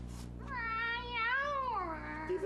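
A cat lets out a single long, drawn-out meow that rises and wavers in pitch, close to the mic and fairly quiet, with a faint low hum in the background.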